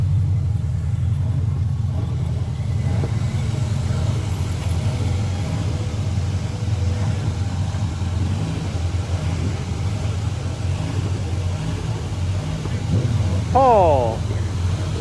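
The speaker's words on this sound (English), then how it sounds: "Really nice sounding Chevelle." A Chevrolet Chevelle rumbles past at an outdoor car and truck meetup, a steady low engine drone close by, with a brief chirping sound near the end and no clear talk.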